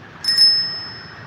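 A phone sounds a bright, metallic coin-clink ringtone, a single chiming ding with a long, steady ringing tail that slowly fades, loud and alone.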